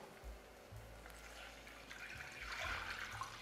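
Water pours into a pot for a French garlic soup (tourin à l'ail), a faint, close splashing flow with a low rumbling undertone and no talking.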